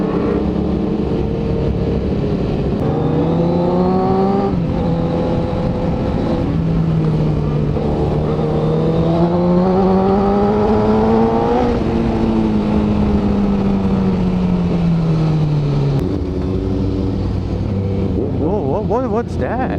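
An Aprilia RSV4 superbike engine rides through Mumbai traffic among other loud superbikes, its close, steady drone rising and falling in pitch as it revs up and eases off, with a sharp drop near the end, amid continuous wind and road rush.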